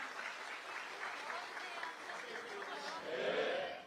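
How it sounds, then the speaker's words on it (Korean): Applause and crowd noise at a Democratic Party presidential campaign rally in South Korea fill the whole stretch as a steady broadband wash, swelling a little louder near the end. "그리고 윤여준 박찬대 상임총괄선대위원장님, 그리고 김민석 상임공동선대위원장님께 여러분 다시 한번 큰 박수 부탁드립니다."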